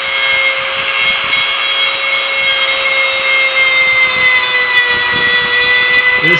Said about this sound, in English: Now we're using our roofing nail Dremel tool to do a little shaping in